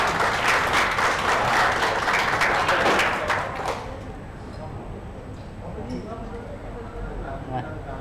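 Audience applause honoring the referee team at a Thai bird-singing contest fills the first four seconds, loud and dense, then thins out to scattered clapping and crowd murmur.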